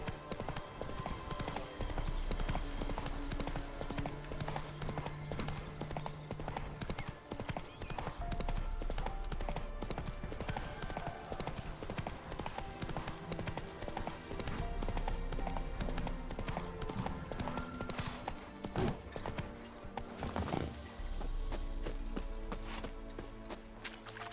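Horse hooves clip-clop in The Witcher 3, a steady loud rhythmic trot running throughout over game music and ambience, with a brief whinny possible.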